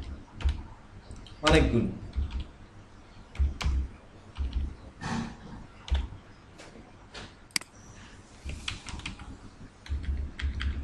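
Names being typed on a computer keyboard in bursts of clicking keystrokes, close by and moderately loud, with someone talking over parts of the typing.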